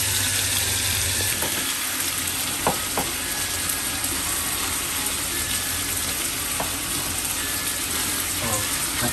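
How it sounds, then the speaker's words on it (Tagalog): Steady crackling sizzle of food frying in hot oil, with a few sharp pops and clinks scattered throughout. "So marami-rami pa tayo prito."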